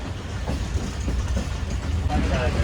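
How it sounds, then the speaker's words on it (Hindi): A passenger train, the Khushal Khan Khattak Express, rumbles along at night, a steady close interior roar with faint rhythmic rail clatter and murmuring voices inside the carriage. "जुमा कोट के पास से गुजर रही है इस वक्त ट्रेन"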